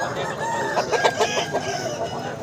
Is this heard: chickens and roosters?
yes